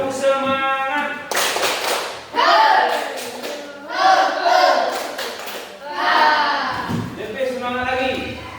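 A classroom group claps a rhythmic ice-breaking routine, with bursts of sharp hand claps falling in a steady pattern, mixed with loud chanting voices of children and a teacher speaking between the claps.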